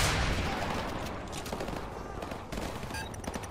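A Javelin missile launches in Call of Duty 4 Modern Warfare Remastered, a loud roaring whoosh and rumble filling the opening and slowly tapering, with battlefield noise and a voice behind it.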